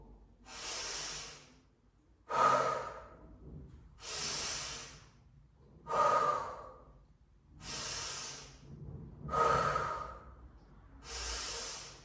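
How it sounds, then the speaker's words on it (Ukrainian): A slow guided breathing exercise: six or seven audible cycles of drawing air in through the nose and letting it out through the mouth, close and fairly quiet, each breath a soft hiss separated by short pauses, with no talking. "Вдихаємо через ніс, видихаємо через рот."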